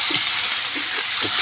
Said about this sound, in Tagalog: buhos ng atay